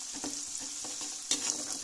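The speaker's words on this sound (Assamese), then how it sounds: "এতিয়া পিঁয়াজখিনি ভাজি আছোঁ পিঁয়াজখিনি অকণমান ছফ্ট হোৱালৈকে ভাজি ল'ম" Onions sizzle in a hot pan for a fish head curry, a brief close frying hiss broken by rhythmic scraping strokes of a spoon.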